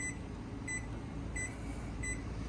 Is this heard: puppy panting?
no